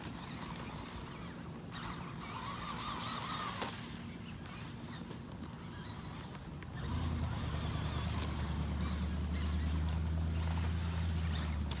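A Gizmovine GV109 4WD 1/16-scale RC truck drives with its small electric motor whining, with rough bumpy rustling at first, then a louder steady drone with rising tonal whine in the second half.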